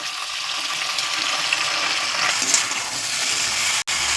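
Tomatoes and onions for a spicy chutney sauté together in a pan, a loud continuous hiss of frying close by that cuts off abruptly for an instant near the end.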